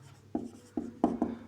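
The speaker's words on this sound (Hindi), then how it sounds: "नीचे लिखेंगे" Chalk strokes on a classroom board during a physics lesson on Coulomb's law, four short, crisp taps and scrapes in quick succession, close and fairly loud.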